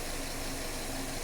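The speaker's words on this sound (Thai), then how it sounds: "ปิดแอร์นี่คือเสียงเครื่องยนต์ค่ะ" A Subaru XV engine idles with the air conditioning off, a low, steady rumble and even background hiss, continuous and moderately quiet, no voices.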